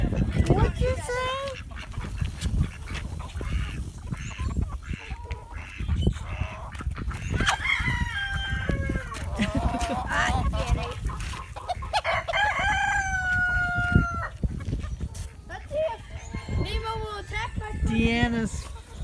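A backyard flock with a rooster wearing pants, several loud nearby crows and clucks from chickens, with geese or ducks calling around them and people talking throughout.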